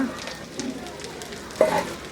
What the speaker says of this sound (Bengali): প্রায় মিনিট দেড়েকের মতো ভাজলাম আদা রসুনগুলা ভালো মতো ভাজা হইলে